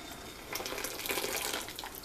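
Water splashes and gurgles as pinto beans are poured into a pot of boiling water, a steady wet rush lasting a couple of seconds at close range.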